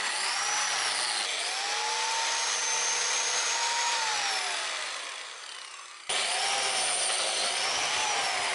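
A biscuit joiner cuts a joint in timber with a loud, steady motor whine that dips in pitch as the blade bites, briefly winds down, then abruptly starts up again.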